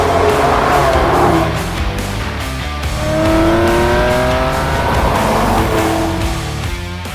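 A 22-year-old Porsche 911 996 driving, its engine a steady, continuous drone with rising and falling tonal sweeps as it accelerates, heard close and clear with no talking.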